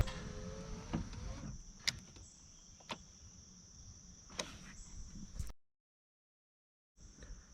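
Power windows on a Ford Crown Victoria whine steadily as they lower, a thin sustained motor tone with a few clicks and thumps, cutting off abruptly before a short resumption.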